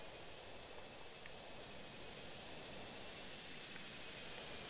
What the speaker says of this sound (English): I'm using jet because I always get lost on this hill